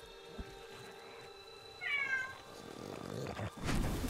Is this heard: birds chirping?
no